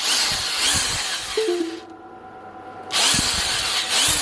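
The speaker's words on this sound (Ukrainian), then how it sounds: "Під'єднав я шнур шурупокрута ось, і включаємо його." A corded-adapted cordless screwdriver runs on inverter power, whirring loudly, cutting out for about a second with a brief motor whine, then spinning up again at full speed; no talking.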